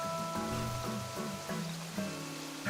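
Steady rainfall hisses in an Animal Crossing video game island, a soft continuous patter layered under gentle melodic game music, with no talking.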